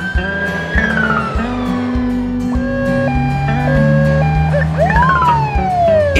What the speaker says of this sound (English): France, police car.